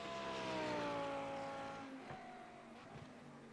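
Lamborghini Super Trofeo race car at Autodromo Nazionale Monza, engine note loud and sustained then falling in pitch as it passes and fades into the distance, brief and without talk.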